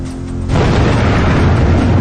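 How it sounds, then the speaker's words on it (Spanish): A massive hydrogen explosion tears apart the Fukushima nuclear plant's reactor 3 building, heard as a loud, deep booming roar that erupts suddenly and sustains as a dense rumble without pause. "una explosión aún mayor hace estallar en pedazos el edificio que alberga el reactor número 3"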